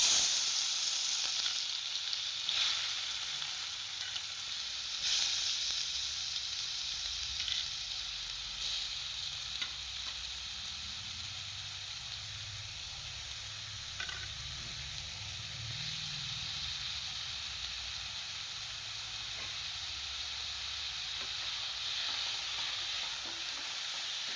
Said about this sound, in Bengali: তেলটা গরম হয়ে গেছে, আমি এই সবজিগুলো সব তেলের মধ্যে দিয়ে দিচ্ছি।